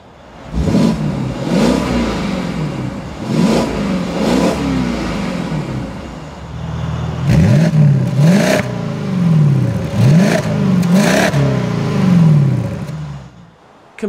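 A 2015 Mercedes-Benz SLK55 AMG in sport mode revs repeatedly, each loud close blip rising and falling sharply with crackles between, in clustered bursts over a steady idle.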